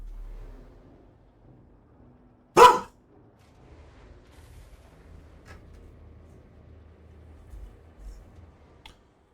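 A dog that wants to be let out gives one sharp, close bark early on, then only quiet room noise and faint low rumble follow.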